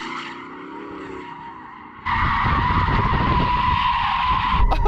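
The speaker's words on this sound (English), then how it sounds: "it's not meant for sliding around and donuting, but I don't give up" A Porsche Cayenne Turbo GT SUV does donuts, starting with a revving engine and then breaking into a loud, sustained tyre squeal as it slides in circles, close by with no talk.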